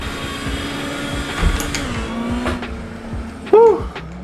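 Supercar engine in Assetto Corsa revving hard through a pull, a steady droning tone that dips at a gear change and rises again, with a brief squeal near the end.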